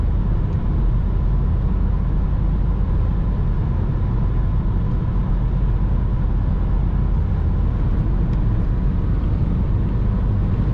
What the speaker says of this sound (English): Full throttle, 5th gear. Yeah, it accelerates.